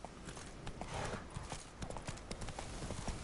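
Roach the horse in The Witcher 3 trots with rhythmic clip-clopping hooves, a steady quick patter of hoofbeats close by and fairly quiet, with game ambience underneath.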